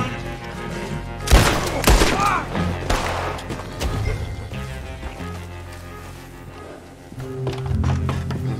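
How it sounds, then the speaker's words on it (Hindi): Gunfire in the Western game Red Dead Redemption: a few sharp, loud shots crack out early, then a rumbling, busy stretch with softer thuds and bangs trailing off. "यहाँ गोलियां चल रही थी"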